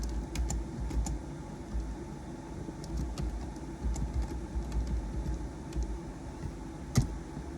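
Computer keyboard typing in soft, irregular bursts of keystrokes, fairly close but faint, over a steady low rumble of background noise.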